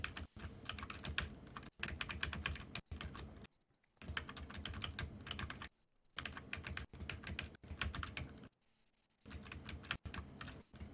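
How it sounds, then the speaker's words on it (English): Violent typing on a computer keyboard, rapid hard clattering keystrokes in several bursts separated by brief pauses, close and fairly quiet overall. "what are you violently typing?"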